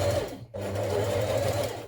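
A sewing machine stitches a dart on a blouse made from New Look 6483, with a loud, close, steady mechanical whir that stops briefly and then runs on evenly.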